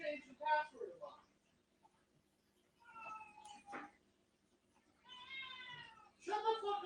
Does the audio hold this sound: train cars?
no